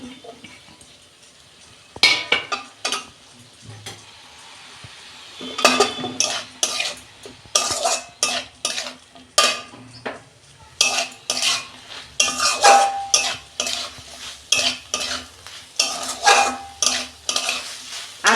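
Shrimp and chopped banana stem being stirred in a cooking pan, with repeated scraping and clinking strokes of a utensil against the metal, coming in irregular bursts over a faint background sizzle.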